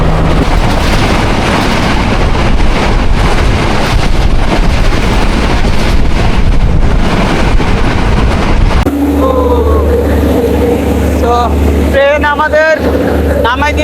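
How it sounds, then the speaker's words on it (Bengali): A metro train ride in Sri Lanka, heard from inside the carriage: a loud, continuous rumble and rush of motion, then a quieter, steadier hum near the end with brief tonal squeals. "আপনারা যখন শ্রীলঙ্কা আসবেন এইরকমভাবে ভাই ট্রেনে ঘুরতে পারেন"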